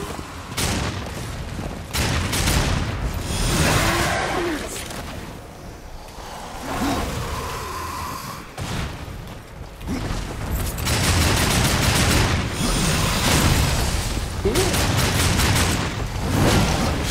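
Gunfire in the video game Darksiders II, with bursts of rapid shots and booming impacts coming in uneven clusters across a long stretch, loud and close, with short lulls between the volleys.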